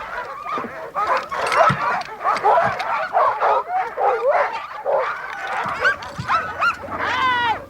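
A pack of sled dogs barks and yips continuously, many overlapping voices close by with a few whines, rising into excited howling toward the end.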